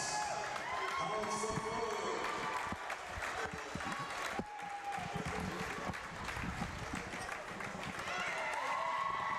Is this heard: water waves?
no